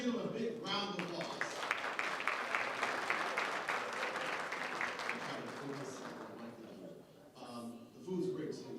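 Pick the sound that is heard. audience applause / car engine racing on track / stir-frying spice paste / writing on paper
audience applause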